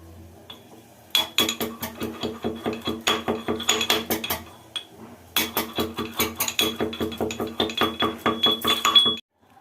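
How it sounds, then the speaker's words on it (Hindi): Green cardamom pods being pounded for jalebi sugar syrup in a home kitchen: two long runs of quick, steady metallic strikes and clinks, close and sharp, with a short pause between them. "चीनी में 2 खड़ी इलायची डाल देंगे, कूट के डालेंगे।"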